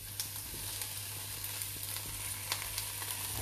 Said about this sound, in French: Je vais mettre mon tofu à cuire dedans.